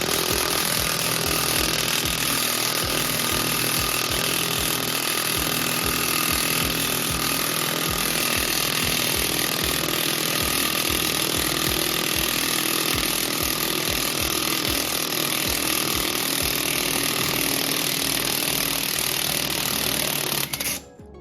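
A bearing puller is cranked down to pull a wheel bearing from an MK1 VW Rabbit, giving a loud, steady stream of rapid grinding, rattling mechanical noise that runs nearly unbroken for about twenty seconds and stops abruptly at the end.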